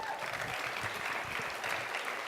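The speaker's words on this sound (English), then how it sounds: "Give yourselves a round of applause." Steady applause from a large audience at a Black Lives Matter event at De Anza College, a dense wash of clapping at moderate level that holds evenly throughout with no voices on top.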